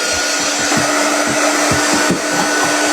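A hair dryer runs steadily close by, drying wet chalk paste on a Valentine wreath craft with a postcard tag sign, its broad constant whoosh holding level for the whole stretch with no talking.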